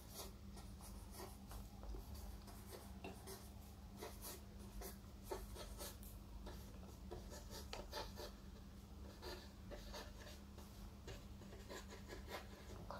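Pen or pencil writing numbers by hand on paper, a soft continuous scratching and rubbing that runs steadily throughout at low volume, close by, with a faint steady hum underneath.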